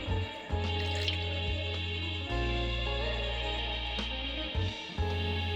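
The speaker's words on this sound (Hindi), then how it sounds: "हम ठंडा पानी शामिल करेंगे इसमें।" Cold water poured into a glass of raw mango and mint sherbet with ice cubes, a steady close pour lasting several seconds with brief breaks, set against a constant tonal background.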